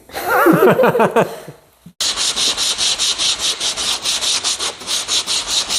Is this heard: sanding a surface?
yes